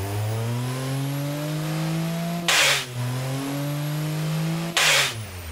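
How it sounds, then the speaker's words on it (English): A Honda 1.0-litre inline-three turbo engine revs steadily upward, with two sharp bursts of turbo boost release hissing out between climbs. The engine is close and loud and nothing else is heard. "this is the turbo, this is the boost sound"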